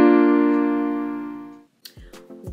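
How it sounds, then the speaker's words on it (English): A single piano chord, several notes struck together, rings out clearly and decays over about a second and a half, followed by a couple of faint brief knocks. "they have chords that they get to play with 3 fingers or more at the exact same time"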